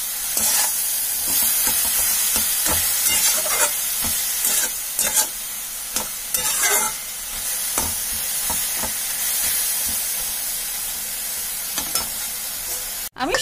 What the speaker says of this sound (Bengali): নাড়াচাড়া করে নেব ভালো করে।